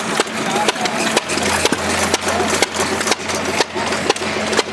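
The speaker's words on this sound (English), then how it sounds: "Got his engine running." An old engine idles at an outdoor engine show, with steady low chugging and periodic sharp knocks under wind and background crowd noise.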